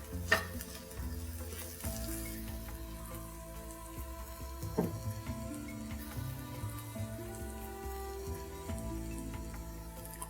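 Kebab ingredients sizzling and caramelizing in a hot pan, a steady crackling fry with occasional louder spatters and utensil clinks, close and continuous.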